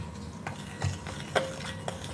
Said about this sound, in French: Continuez à bien mélanger